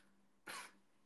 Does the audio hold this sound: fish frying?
no